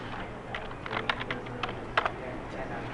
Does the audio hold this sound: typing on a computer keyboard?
yes